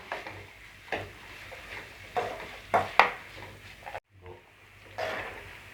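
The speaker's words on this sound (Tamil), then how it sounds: "வெங்காயம் நல்லா கோல்டன் ஃப்ரை ஆகிற வரைக்கும் வதக்கி விட்டுட்டே இருங்க" Onions being stirred and fried in a pan over a low gas flame until golden, heard as repeated scraping strokes of a spoon every second or so, with a soft frying hiss between them.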